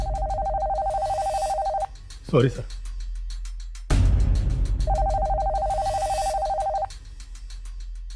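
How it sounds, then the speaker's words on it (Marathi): A mobile phone ringtone plays loudly in repeating bursts, cuts off, then sounds again. Someone briefly speaks between the rings. "सर खबऱ्याचा फोन आहे"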